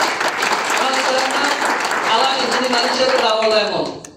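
An audience applauding a leader at a DXN company gathering: a dense, steady round of clapping from many hands that holds for several seconds and then fades out.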